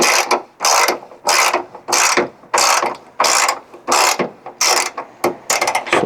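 A ratchet cranks a bolt on a ditch light bracket being installed, giving a loud, close series of rhythmic clicking bursts. The strokes repeat steadily with short pauses between them, and no one speaks.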